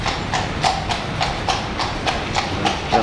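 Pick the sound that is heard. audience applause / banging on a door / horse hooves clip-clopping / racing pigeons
horse hooves clip-clopping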